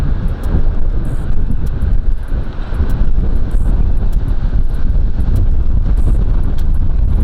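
Strong gusty wind buffets the microphone outdoors, producing loud, continuous low rumbling and roaring with shifting intensity from start to finish.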